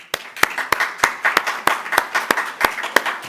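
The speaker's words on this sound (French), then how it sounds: "Et on peut même les applaudir." A church congregation claps for the worship team at a Sunday service, sharp claps landing in a steady rhythm roughly three times a second with no voices.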